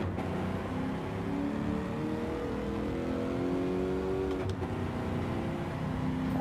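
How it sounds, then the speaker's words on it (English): A Mercedes in Gran Turismo 7 revs with a deep, heavy engine roar, a continuous loud drone rising and falling in pitch as it accelerates on track, with no talking. "Oh, listen to that engine."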